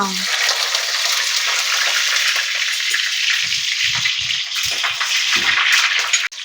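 Dried red chillies and cut green chillies frying in seasoned oil with dal for a kudampuli fish curry, a loud, close, continuous sizzle and crackle with a few soft clatters, no talking.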